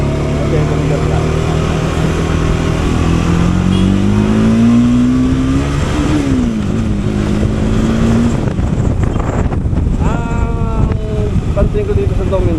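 A Kawasaki Dominar 400 motorcycle engine revs hard in second gear on a road, its loud close drone rising in pitch, dipping and climbing again, with wind rush and no talk.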